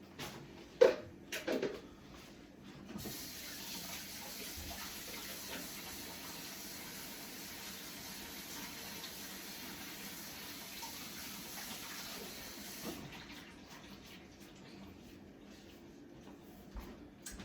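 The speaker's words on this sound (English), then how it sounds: "I'm going to rinse my gloves very quickly." Tap water runs steadily into a kitchen sink while gloved hands are rinsed during meatloaf preparation, a soft continuous stream with a few clicks and knocks at the start and end.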